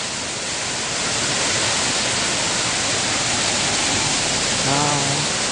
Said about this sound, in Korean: 이거, 파도 소리가.